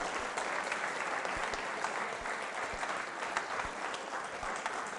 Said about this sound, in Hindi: जोरदार तालियां जोरों से बजाइए।